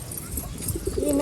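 Pigeons of many breeds kept together, including fantail types, cooing and calling close by over a steady low rumble of background noise, the coos growing louder and more sustained toward the end.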